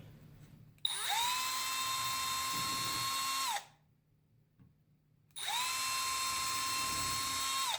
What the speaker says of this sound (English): Now, before you take these clamps off, you want to drill these holes.